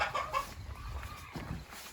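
Quiet, nearby clucking from a few chickens fussing at rollout nest boxes, short fussy calls in a calm outdoor setting.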